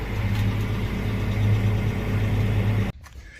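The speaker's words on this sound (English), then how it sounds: "Okay, I put that big tractor in back here" A big farm tractor's engine runs steadily at close range, a low rumbling drone that holds even for nearly three seconds and then cuts off abruptly, leaving quiet.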